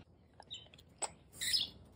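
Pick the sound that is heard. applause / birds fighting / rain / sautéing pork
birds fighting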